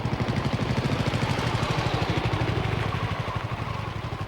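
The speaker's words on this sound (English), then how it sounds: "People sleeping in the park woke to the sounds of police motorcycles just before dawn today" Motorcycle engines putter and idle steadily in a park just before dawn, a rapid low throbbing rhythm that holds fairly close and constant throughout, with a faint clatter mixed in.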